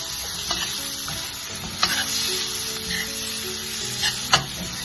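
Close stirring of cumin powder and garam masala in a hot pan for an egg roast, a soft sizzle under scraping stir strokes with a few sharper clicks of the spoon against the pan.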